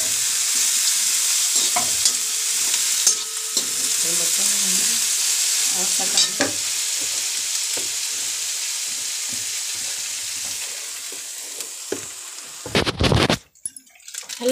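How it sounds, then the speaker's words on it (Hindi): Spices stirred and roasted in a frying pan for puri, a steady close sizzle with scraping stirs throughout and a louder burst of frying near the end. "देखिए हम मसाला डाल के भूनने जा रहे हैं पूरी बनाने के लिए।"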